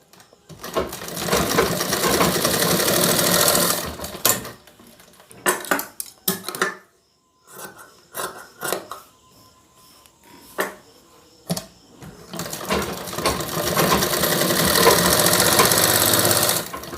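A sewing machine stitches a fabric face mask in loud, steady mechanical bursts at the start and end, with a quieter gap of short clicks and handling noises in between.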